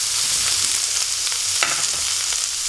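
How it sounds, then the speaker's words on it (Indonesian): Tempeh fries in a pan with green beans, a loud, steady sizzle close by with a few sharper crackles and stirring scrapes, and no voices. "Barulah kita masukkan si tempe"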